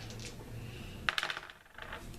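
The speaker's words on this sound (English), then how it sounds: "So I'm going to roll 4 dice on your guys on the bridge." Four battle dice rolled during a Memoir '44 board game, clattering sharply in a brief burst of rattles and bounces over a steady background hum, then settling into quiet.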